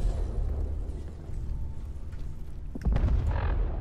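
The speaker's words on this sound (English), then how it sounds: "I can hear explosions." Explosions go off somewhere in the Fallout 4 game world, a low rumbling boom rolling steadily before a sharper, louder blast hits near the end, with no voices over it.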